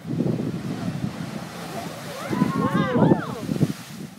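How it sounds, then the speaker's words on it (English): Ocean waves surge and roar against the rocks at the Kiama Blowhole on the coast, with wind buffeting the microphone and voices talking over the churning water. "The waves compress air in a cave under the ground, and then pressurized air then blows the water out through the hole."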